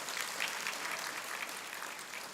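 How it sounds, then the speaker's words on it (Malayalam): An audience at a Lions International district cabinet installation applauds, a steady dense clapping that holds at an even level throughout the short stretch. "നല്ല ഒരു കയ്യടി അവർക്ക് കൊടുക്കണം."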